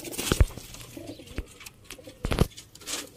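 Sialkoti pigeons coo softly amid scattered bird sounds and a few sharp thumps or flutters, fairly close by.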